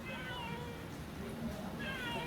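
Several cats meow in quick succession, high plaintive cries that stand out over a steady background hum, while people talk quietly nearby.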